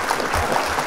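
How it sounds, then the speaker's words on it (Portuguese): An audience claps for a candidate at a political talk event, a brief dense burst of steady applause. "Uma salva de palmas para o candidato."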